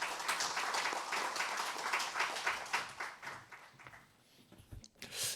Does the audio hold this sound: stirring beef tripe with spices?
no